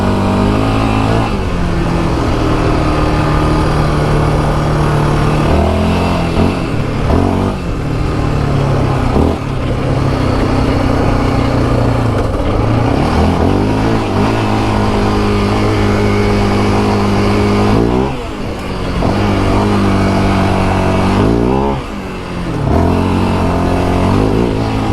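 A 2024 Yamaha Raptor 700R SE ATV engine revs hard through repeated take-offs and gear changes, its loud single-cylinder note climbing and dropping in sweeps close by.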